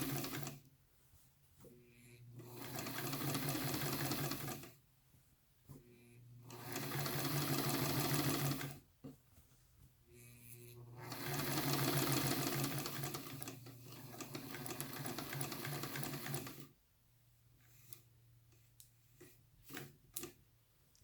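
A sewing machine stitches a loose gathering line on sleeve fabric in several steady bursts of rapid rhythmic whirring and ticking, separated by short pauses and small handling clicks, close up with no talking.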